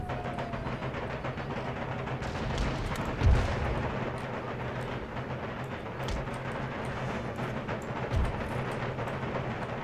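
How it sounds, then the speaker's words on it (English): Artillery batteries fire during a battle in Empire Total War, with deep booming shots at about 3 and 8 seconds standing out above a dense, continuous roar of battlefield noise. "Artillery still firing on the mounted tribal gunners."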